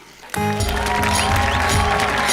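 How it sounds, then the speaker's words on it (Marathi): Audience applause breaks out suddenly at a Marathi comedy show's award presentation, a dense, sustained clapping from a large crowd that starts abruptly and stays loud to the end, with music-like tones running beneath it. "जोरदार टाळ्या."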